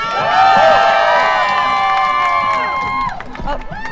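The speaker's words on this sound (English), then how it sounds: "Please give a big round of applause for Chris Marte" A rally crowd at a hunger-strike protest against 24-hour workdays cheers loudly for Chris Marte, with sustained whooping voices over applause that swell for about three seconds and then break into scattered shouts.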